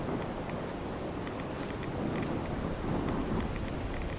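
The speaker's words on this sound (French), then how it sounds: "Dans une tempête atomique," An atomic storm in Fallout 4 gives a steady low rumble of thunder under constant rain and wind, a dense, moderately quiet wash with faint crackles and no voices.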